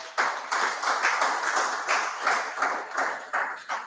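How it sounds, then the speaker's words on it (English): Audience at a district town hall meeting clapping for healthcare workers, a moderate, uneven patter of hands from a modest crowd, steady throughout with a few louder bursts. "let's just give our healthcare workers a round of applause"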